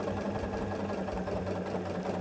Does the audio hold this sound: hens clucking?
no